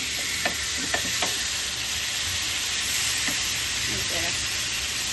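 A shawarma roll fries in a pan with a steady, bright hiss of sizzling oil. A few light taps and clicks stand out as it is turned over, heard close and continuous.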